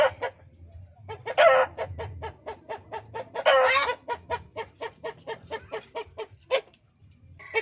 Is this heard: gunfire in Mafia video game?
no